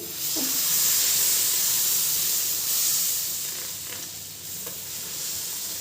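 Thin jowar dosa batter hits a hot pan over a medium flame and sizzles steadily, a loud continuous hiss that swells and eases slightly, with faint clinks of utensils.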